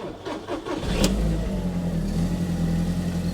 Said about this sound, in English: So I'm going to turn the engine on.